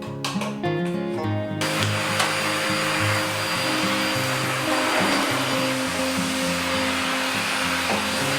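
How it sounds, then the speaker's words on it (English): A vacuum cleaner starts up and runs with a loud, steady roaring whine, close by, continuing without pause. "I'm just getting the vacuum out here, and I'll get the vacuuming started"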